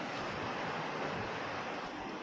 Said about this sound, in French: Wow, les vagues.